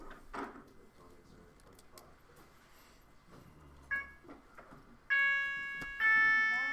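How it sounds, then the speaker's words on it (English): A school class bell or buzzer sounds two loud electronic tones in a classroom, each a sustained harmonic beep following the other within a second, after quiet room noise and scattered movement. "Does it always beep twice like that?"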